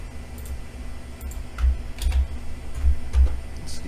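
Keystrokes on a computer keyboard while entering an IP address in a network configuration exercise, a few scattered clicks forming short bursts of close, fairly quiet typing over a steady background hum.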